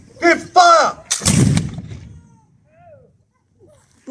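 A flintlock musket goes off with a single loud blast that rolls into a short echoing decay, right after a voice calls out commands in an outdoor demonstration.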